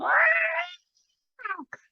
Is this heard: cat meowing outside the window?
yes